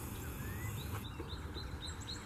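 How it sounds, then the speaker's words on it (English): Thin high calls from a flock of cedar waxwings in a tree, repeated faint seeping notes over a constant low outdoor hum and insect buzz, with no talking. "Oh look, cedar waxwings."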